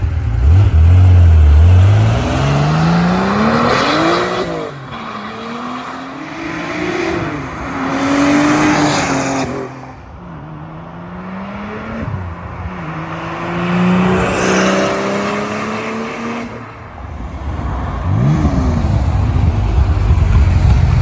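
A modified 1985 Porsche 930 Turbo with a 3.4 liter engine cruises on a road, its engine loud and close, rising and falling through repeated gear changes with deep low rumble and turbo whine, no talk.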